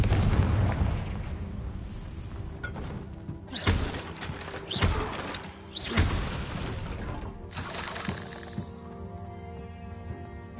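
Repeated Confringo blasting-spell explosions in Hogwarts Legacy, several loud broadband bursts landing a second or two apart, with crackling debris and a lingering rumble between them and no talk.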